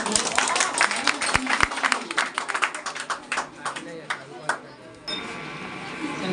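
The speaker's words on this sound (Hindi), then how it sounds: "इनके लिए एक बार जोरदार ताली बजाइए" Audience clapping at a Teachers' Day speech event, a loud burst of dense, crisp claps that thins into scattered claps, with voices and crowd noise mixed in.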